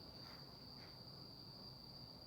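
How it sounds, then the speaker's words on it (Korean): Crickets chirp in a steady, high, continuous trill over quiet background hiss, faint and distant. "귀뚜라미 소리만 들어도 되잖아."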